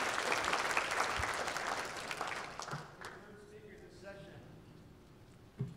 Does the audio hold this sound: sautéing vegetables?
no